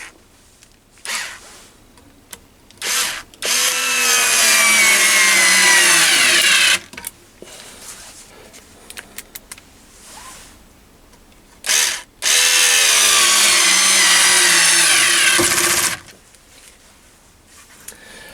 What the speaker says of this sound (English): I'm going to put a self tapper into this one with the crosshead